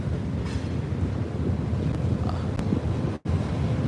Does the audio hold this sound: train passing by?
yes